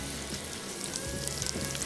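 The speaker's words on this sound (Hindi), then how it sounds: "जैसे ऑयल गर्म होता है, फिर हम इसमें शामिल कर देते हैं स्लाइस किए हुए प्याज" Sliced onions fry in hot oil for biryani, a soft, even crackle and sizzle that holds steady throughout, faint and close with no voices.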